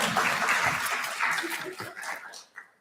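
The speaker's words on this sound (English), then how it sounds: "Give him a round of applause." Audience applause at a college awards ceremony for liberal arts and communication honorees, a steady wash of clapping from a crowd that holds loud and dense, then thins out and fades near the end.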